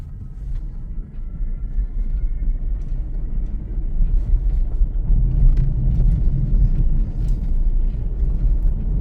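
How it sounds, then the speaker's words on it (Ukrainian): A car driving at very low speed, around 7-8 km/h, gives off a steady, heavy low-frequency rumble that fills the whole stretch with no speech over it. "одразу був відчутний такий важкий рокіт"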